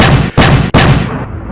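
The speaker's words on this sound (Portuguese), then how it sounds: "Foram 3 tiros a queima-roupa." Three gunshots fired at point-blank range as a sound effect: three loud, sharp blasts in quick succession, each with a long booming tail, the last one fading out.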